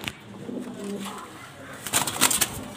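Grizzle racer pigeons coo in a loft with a few soft, low murmuring calls, followed by brief brighter rustles and flutters near the end.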